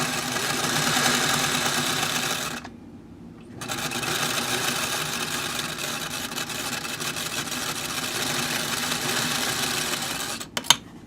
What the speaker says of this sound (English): So then we're going to sew all the way down to the end here.